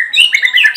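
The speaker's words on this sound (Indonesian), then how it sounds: "Burung di rumah hanya mengeluarkan ocehan yang gelondong-gelondong seperti itu" An oriental magpie-robin (murai batu) kept at home gives a short, close burst of bright, rapid chirping and twittering notes, loud and alone.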